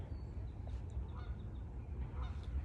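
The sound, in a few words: bird calling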